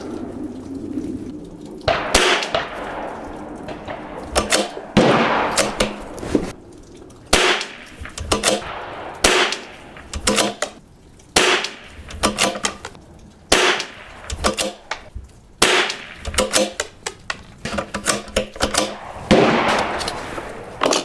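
A CZ 457 rifle fires a string of about ten sharp, cracking shots at an outdoor range in cold, snowy weather. The shots are irregularly spaced over roughly twenty seconds, each loud and close with a brief ringing tail.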